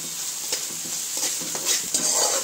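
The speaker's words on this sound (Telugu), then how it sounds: "ఇప్పుడు అల్లం వెల్లిగడ్డ వేసుకుందాం." Ginger and garlic being fried and stirred with green gram in a pan, a soft continuous sizzle with occasional scraping stir strokes, moderately quiet and close, with no talking.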